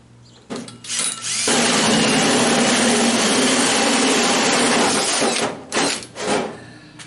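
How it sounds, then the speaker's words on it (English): Power drill boring a hole for a fuel filler neck, starting with short bursts, then a sustained loud whine for several seconds before tapering off into a few brief pulses. "So we're just going to go ahead and drill it."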